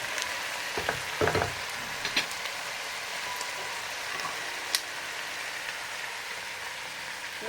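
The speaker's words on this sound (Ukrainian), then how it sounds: "Перемішуємо і будемо чекати пару хвилин, щоб цибулька тушкувалася разом з морквою і з м'ясом" Meat, onion and carrot stewing for a quick pilaf give off a steady soft sizzle and hiss, with a few clunks from stirring near the start and a single sharp tick later, all fairly quiet.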